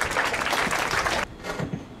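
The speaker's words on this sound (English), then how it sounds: "give yourselves a round of applause" Applause from a gathered audience at a charity event, steady clapping for over a second that cuts off abruptly, leaving a quieter room with a few faint sounds.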